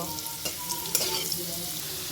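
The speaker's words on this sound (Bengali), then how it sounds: "আলু লাল করে ভেজে নিব।" Potatoes coated with turmeric and salt fry in hot oil with a steady sizzle, broken by a few louder clinks and scrapes of stirring. The sound is close and continuous, with no voices.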